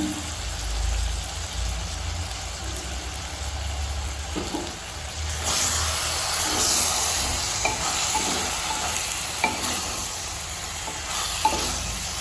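Capsicum fried rice with fresh mint is stir-fried in a pan, giving a continuous sizzle and hiss with intermittent scraping and tossing knocks, close and steady throughout.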